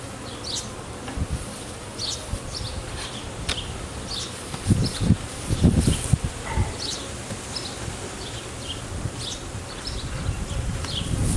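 Honeybees buzz steadily around an open hive frame and honey super during an inspection, a close, continuous hum with individual bees droning past, plus occasional handling knocks and rustles.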